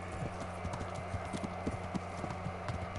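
Horse hooves clip-clop steadily in Kingdom Come: Deliverance, a regular trotting rhythm of close, moderately loud hoofbeats over a low, constant background hum.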